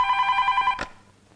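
A telephone rings on an outgoing call, a clear electronic trill lasting under a second before cutting off into quiet.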